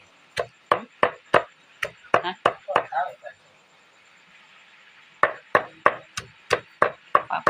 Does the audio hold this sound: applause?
no